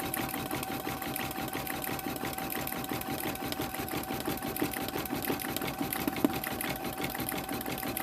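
An embroidery machine stitches an applique design onto balsam wood, giving a steady, fast mechanical chatter of needle strokes that runs unbroken and fairly close throughout, with a faint constant hum underneath and no voices.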